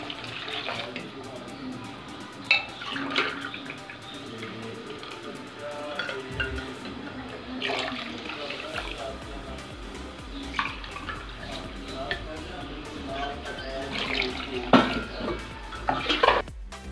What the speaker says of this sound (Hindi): पानी डाल के मैं इसको फेंटती जाऊंगी